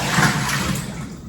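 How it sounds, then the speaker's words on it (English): Water tipped out of a strainer that holds freshly washed fruit gives a brief, close splashing pour that fades quickly. "pour the water out."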